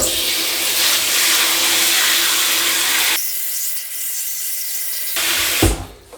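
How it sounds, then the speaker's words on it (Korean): Water sprays forcefully from a shower head into a tile floor drain, a loud, close rushing hiss that shifts to a thinner, splashier stream partway through before cutting off with a final clatter. "제가 한번 물을 한번 쏴볼게요."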